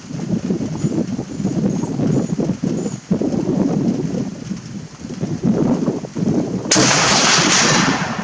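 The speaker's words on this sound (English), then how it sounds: "Shoot one more, that gives us 5 on target." A single loud rifle shot from an FN 1950 Mauser carbine chambered in .30-06 cracks near the end, after several seconds of steady rumbling background noise.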